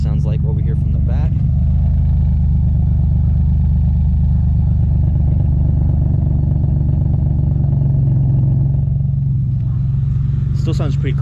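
A 3G Mitsubishi Eclipse idling with an aftermarket exhaust, heard from the rear as a loud, steady, low rumbling drone that holds constant throughout, with a brief clatter near the start and end.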